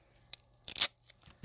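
A strip of duct tape tears sharply off the roll while sealing the pages of a handmade dollhouse book, one quick ripping burst with a softer rip just before it, close and alone.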